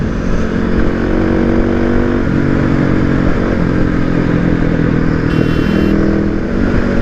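Kawasaki KLX250S dual-sport motorcycle out on a road ride, its engine a steady loud drone with shifting pitch, mixed with wind and road rumble throughout.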